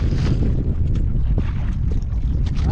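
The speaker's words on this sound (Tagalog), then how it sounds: "naglakas na naman ang hangin" A strong wind buffets outdoors, loud, gusty rumbling blasts hitting the microphone continuously for a few seconds, with a boat setting around.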